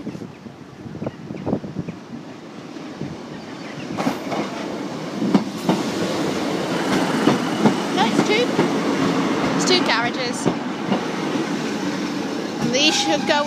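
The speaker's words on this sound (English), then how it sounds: "Just the one train." A train rumbles past up close at the Parbold level crossing with rhythmic clattering of wheels, wind buffeting the microphone and a voice talking over it.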